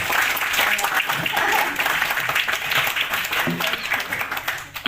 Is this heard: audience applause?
yes